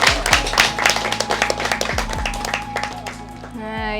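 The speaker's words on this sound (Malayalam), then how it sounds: "നല്ലൊരു കൈയടി സന്ധി ചേച്ചിക്ക്" Applause honouring Sandhi chechi at a Kallambalam Kairali Jewellers Women's Day felicitation, a crowd clapping steadily and fairly close for about four seconds, with background music and chatter running underneath.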